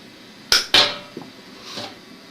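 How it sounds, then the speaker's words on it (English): Large wire clippers cutting through 10 gauge outdoor wire, two sharp metallic snaps in quick succession followed by a few softer clicks and handling sounds, close and without talking. "let's cut about 1 foot off the end. You may need some larger wire clippers to do this."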